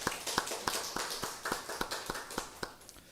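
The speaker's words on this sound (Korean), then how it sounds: "은혜로운 찬양으로 하나님께 영광을 돌린 우리 호산나 찬양대에게도 감사의 박수하도록 하죠" Church congregation at a Sunday worship service claps in thanks for the choir, a soft, sparse patter of hand claps with distinct individual claps in a loose rhythm, faint and without talk.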